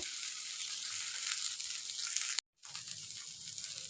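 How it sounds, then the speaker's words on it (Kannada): Soya chunks roasting in a pan on high flame give a loud, continuous close sizzle and crackle, broken by a brief silent gap before the frying resumes. "1-2 ಮಿನಿಟ್ಸ್ ಹೈ ಫ್ಲೇಮ್ನಲ್ಲಿ ಚೆನ್ನಾಗಿ ರೋಸ್ಟ್ ಮಾಡ್ಕೋಬೇಕು"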